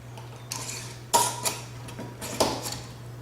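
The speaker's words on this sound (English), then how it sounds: "Go ahead and put your lid on there." A lid going onto a jar of hot homemade BBQ sauce: a few close, crisp clinks and scrapes of metal against glass over a steady low hum, no voices.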